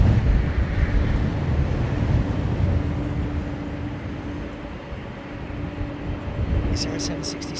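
A Boeing 767 engine run-up at London Heathrow Airport drones steadily at a distance, a sustained whine over a broad roar, with a few brief clicks near the end.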